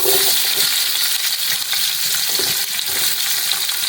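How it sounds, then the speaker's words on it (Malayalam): Chopped onions hit a hot pan of crackling fenugreek and fennel seeds for a chicken curry, setting off a loud, steady hiss of frying with faint scraping, near and alone with no talk. "നമുക്ക് വലിയ ഉള്ളി ഇട്ട് കൊടുക്കാം."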